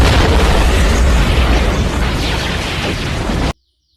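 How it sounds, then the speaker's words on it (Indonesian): A loud, dense explosion in a zombie film roars as a sustained rumbling blast that fades slightly over three and a half seconds before cutting abruptly to silence. "Setelah ledakan itu,"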